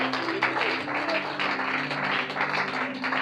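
A church congregation applauds during worship, a steady, dense wash of clapping that holds at an even level throughout, with a sustained low musical tone underneath.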